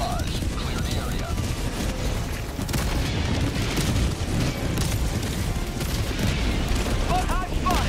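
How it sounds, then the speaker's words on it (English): Dense, continuous barrage of heavy explosions and booms from an orbital strike in Helldivers 2, rumbling loud and sustained throughout with scattered gunfire and faint voices mixed in. "Firing orbital barrage."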